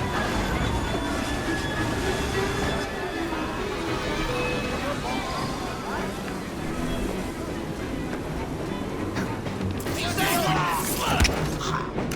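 Train in the video game Assassin's Creed Syndicate, a steady rumbling rail clatter with broad noise throughout, growing brighter and busier near the end, heard alone.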